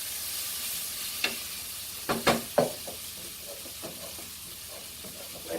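A vegan tofu scramble mixture sizzles in a frying pan, with a steady hiss broken by a few sharp clatters and scrapes of the utensil in the pan.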